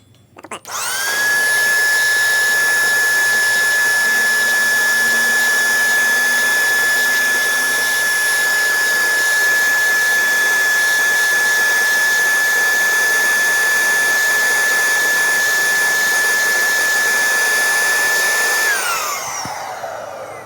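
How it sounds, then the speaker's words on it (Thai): A handheld vacuum cleaner sucks at a clogged air conditioner drain with a loud, steady high-pitched whine that starts abruptly, runs for nearly twenty seconds and then spins down. "ใช้เครื่องดูดฝุ่นเสียบเข้าไปครับ"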